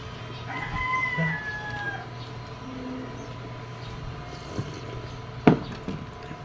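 A rooster crows once early on, with scattered soft clucks from nearby chickens over a low background hum and a sharp knock near the end.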